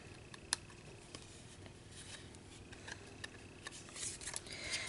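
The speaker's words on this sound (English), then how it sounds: "Scissors real quick, kind of cut that off a little bit." Scissors snip paper for an Easter basket craft, giving faint, sparse clicks and small crisp cuts scattered over a quiet room, close by and soft.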